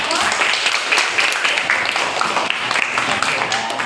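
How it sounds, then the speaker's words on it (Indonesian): Classroom applause for a student group after their presentation, a loud burst of many hands clapping together in a steady patter, with a voice speaking over it. "tepuk tangan untuk kelompok 1"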